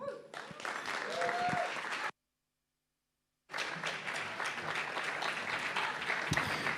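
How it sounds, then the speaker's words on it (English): Live-show audience applauding to welcome the first act at The Bedford, a dense steady crowd clapping that breaks off into a brief silence and then resumes at full strength. "maybe you put your hands together and give a little extra love in your applause"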